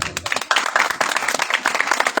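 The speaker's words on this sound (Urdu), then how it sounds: "آئیے ایسے بادشاہ کے لیے زوردار تالی بجائیے۔" A church congregation claps together in a brief, dense burst of applause at a sermon service, the clapping quick and continuous for a couple of seconds.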